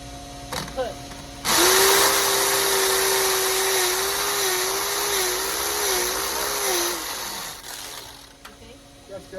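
A power drill runs in one long continuous burst of several seconds, loud and steady with a slight wavering pitch, while putting up a sun shade sail over a backyard patio; voices talk briefly before and after.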